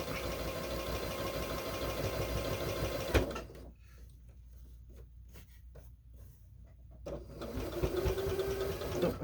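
Sewing machine stitching a scrappy square-in-a-square quilt block, a steady close mechanical whir that stops in the middle for a few seconds of quiet handling and then runs again.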